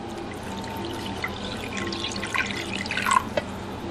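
Water is poured into a cooking pot while making pork carnitas, with soft trickling and splashing that grows more distinct and louder near the end, then a few isolated drips.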